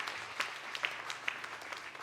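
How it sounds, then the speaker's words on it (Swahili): A church congregation claps for a woman during a Sunday service, a fairly faint, even patter of many hands with a few sharper claps standing out. "Tumpigie makofi sana huyu dada."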